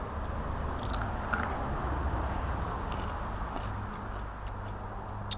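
A single close bite into a Peach Fantasy chilli near the stalk, pith and seeds, followed by quiet crunching and chewing over low background noise.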